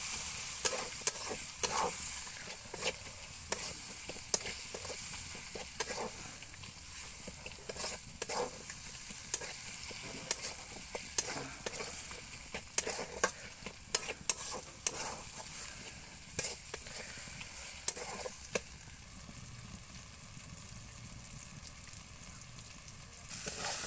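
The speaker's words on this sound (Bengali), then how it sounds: "এরপর দেবো টমেটো কুচি আর দেবো হলুদ গুঁড়ো দিয়ে একসাথে কষিয়ে নিতে হবে।" Spices, chopped tomato and turmeric sauté in a hot pan while a spoon stirs with frequent scrapes and clicks over a constant soft sizzle, alone and steady for the full stretch.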